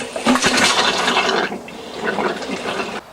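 Water rushes out of a caravan's cold tap on a Floe drain-down system, a loud hissing gush with gurgles that eases midway, surges again, then stops abruptly.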